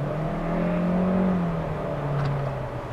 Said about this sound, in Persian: صدای گیربکس CVT توی این مدل ها نسبت به مدل های قبلی بسیار بسیار کمتر شده